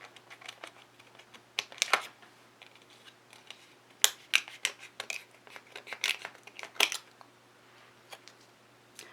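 Scissors cutting apart the Morphe 350 eyeshadow palette: sharp, close snips and plastic clicks arrive in irregular bursts over a quiet background.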